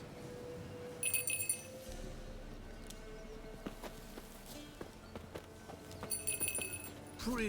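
A goat mount's hooves clop across the ground in The Witcher 3 video game: a steady run of soft, hollow footfalls under faint game ambience, with brief bright chiming bursts near the start and end.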